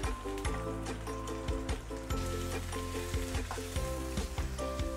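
The lower part of a spring onion sizzles steadily and loudly in a hot pan, a dense continuous frying crackle with some stirring rattle, just before freshwater prawns go in; no one speaks.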